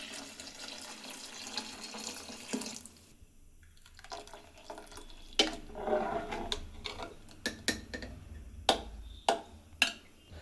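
Water is poured from a tap into a pot of ground sambar masala, with a gurgling splash in the middle and several clinks and knocks of metal cookware, all close and fairly quiet.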